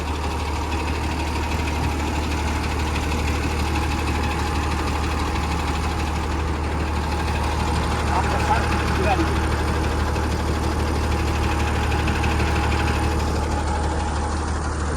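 A car travels the Solapur road toward Bangalore on a Maharashtra to Tamil Nadu trip, its engine a steady low hum blended with constant road rumble, continuous and unchanging throughout.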